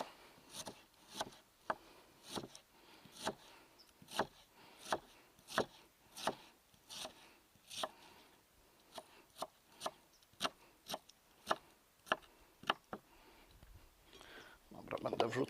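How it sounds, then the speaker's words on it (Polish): A knife slices an onion into thin strips outdoors, each cut a crisp tap on a board, about twenty of them in a loose, fairly even rhythm at low volume. "Cebulę sobie takie pióra kroję"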